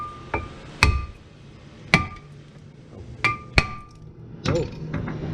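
Hammer striking the rusted rear brake rotor of a Jeep Liberty, six sharp metallic clanks at irregular intervals with a faint ringing after each, close and loud over quiet background.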